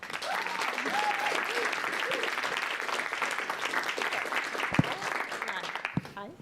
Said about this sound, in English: Please give a round of applause to Athanasia Mowinckel.